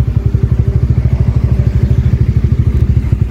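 A motorcycle engine idles with a fast, steady, evenly pulsing throb, close and loud, as the bike is brought into the parking area at the Bethuadahari forest sanctuary in Nadia.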